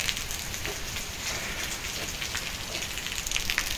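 Heavy rain pouring at Mi-ike, Takaharu, Miyazaki, a dense, steady hiss of drops hitting surfaces all around, with no talking.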